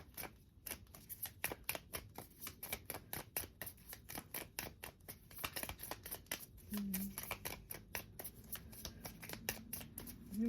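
A deck of tarot-style cards shuffled by hand at close range, producing repeated crisp riffling bursts in an irregular rhythm, with faint handling noises between them and no talk.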